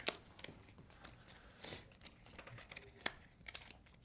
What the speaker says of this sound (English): Let me shuffle these actually.